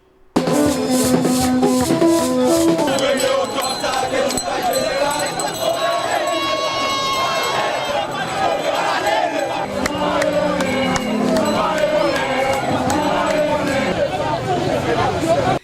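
A large crowd of protesters at the Champ de Mars, where police used tear gas to disperse it, keeps up loud, dense shouting and chanting for over fifteen seconds, with many voices layered and constant.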